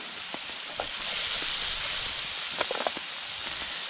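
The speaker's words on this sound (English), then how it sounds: "First part of the stir fry's on." A stir fry sizzles in a pan on a camp stove while wild camping in wet weather, a steady close hiss with scattered small pops and crackles.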